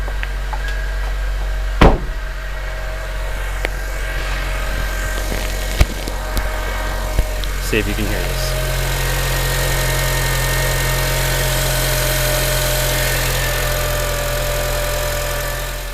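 A Honda K24 engine swapped into an NC Miata idles steadily and close by, a smooth continuous drone after a couple of brief knocks, with a short spoken remark near the start.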